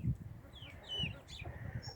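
Brahma hens clucking on a farm: soft, repeated low clucks and thin, high chirps, fairly close and quiet, with no talk over them.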